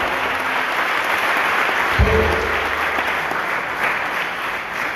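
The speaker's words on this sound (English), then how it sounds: "Clap for Jesus here." Church congregation applauding in a service: sustained, thick clapping from many people at an even level, with a single low thump partway through and no speech over the clapping.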